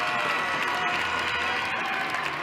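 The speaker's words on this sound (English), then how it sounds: "all of a sudden the building erupted, and Chris Ingles cheering the crowd on" An ice hockey arena crowd in an EIHL game erupts into loud sustained cheering and applause during a fight, a dense continuous roar throughout.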